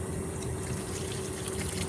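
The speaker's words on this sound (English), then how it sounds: "So what I'm going to do is I'm going to pour this in." Red coolant is poured steadily into a car's cooling system, a continuous gurgling, hissing liquid flow that stays close and even throughout.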